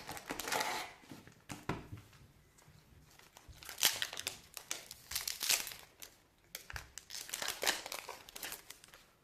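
Foil wrappers of Yu-Gi-Oh booster packs crinkle and tear open close by, in irregular bursts of rustling and ripping with short pauses between, without any talk.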